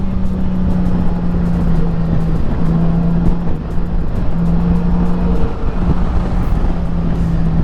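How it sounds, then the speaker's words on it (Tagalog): A loud, continuous engine drone while riding a 2024 Honda Gold Wing GL1800 motorcycle, with a steady low hum and rushing wind noise, close and unbroken throughout. "Gigil yung makina niya."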